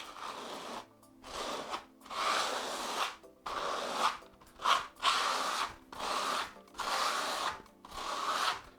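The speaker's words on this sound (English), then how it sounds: "with your microcement spatula or whichever trowel you are planning on applying your microcement with, we're simply going to run that over the surface." A trowel is scraped repeatedly across a microcement-coated surface in rhythmic strokes, about eight rasping sweeps separated by brief pauses, close and clear without speech.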